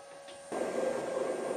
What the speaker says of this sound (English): And now we've got spindle rotation.